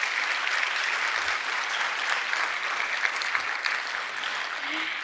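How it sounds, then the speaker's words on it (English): Audience applause at a school board meeting, a steady, dense wash of clapping from a seated crowd that holds evenly for the whole stretch without voices. "Let's give them a big round of applause."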